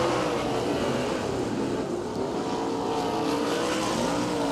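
Sprint cars racing on a dirt track at an East Bay Winter Nationals event, a continuous engine roar with droning, shifting pitch, fairly distant and steady.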